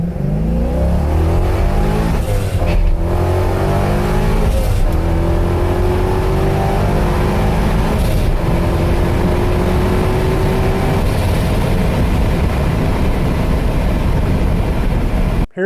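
A supercharged C5 Corvette accelerates hard, its loud, close engine note climbing through several gear shifts with a whining rise in pitch, then roaring steadily on to the end.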